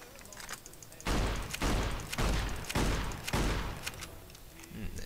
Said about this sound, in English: there's the lever action shotgun